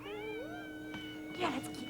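A cat meows in a rising, drawn-out tone, then gives a second shorter meow near the end, close and clear against a quiet room.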